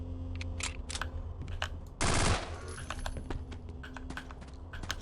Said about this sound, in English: I didn't empty my MP5, didn't I? Yeah, I'm gonna have to do a reload.